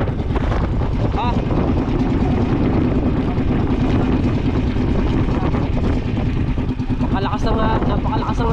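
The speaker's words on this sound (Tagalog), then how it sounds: "Napakalakas ng hangin," Strong wind buffets a small fishing boat at sea in rain, a loud constant roar with engine-like rumble, while people talk over it.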